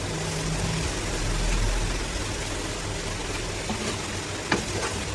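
Radish cake mixture cooking and being stirred in a pan, a steady broadband sizzle with soft scraping throughout and one brief knock near the end, no voices.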